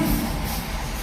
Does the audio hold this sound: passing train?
yes